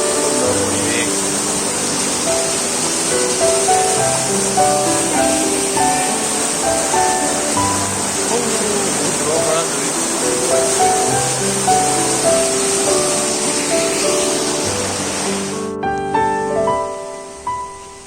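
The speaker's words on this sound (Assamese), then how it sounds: "নদীৰ পানী বৈ আছে ধুনীয়াকৈ" Water flowing steadily in a stream beside a shrine, a continuous loud rushing wash overlaid with tonal music that drops out near the end.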